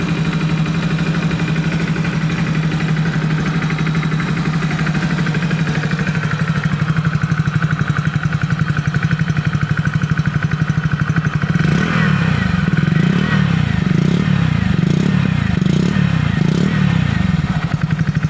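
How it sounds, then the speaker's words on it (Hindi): A 2021 Hero HF 100 commuter motorcycle's single-cylinder engine running steadily at idle, loud and close, with a brief rise in revs and some mechanical clatter toward the end. "चलिए दोस्तों, बाइक का साउंड आपको सुनाते हैं।"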